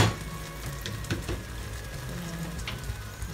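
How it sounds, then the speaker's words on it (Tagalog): Chicken breast simmering in pineapple juice in a pan, a steady soft sizzle and bubbling that continues evenly throughout, close and moderately loud with occasional faint clinks. "So, simmer muna natin sandali."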